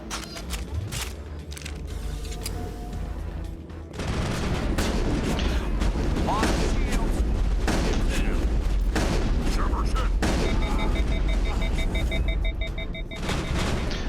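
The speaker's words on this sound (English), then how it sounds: "Let's try the shotgun." A shotgun fires in the Mass Effect video game among other in-game combat sounds. Loud repeated booms and impacts sit over a dense, continuous battle din with electronic beeps, and a voice speaks.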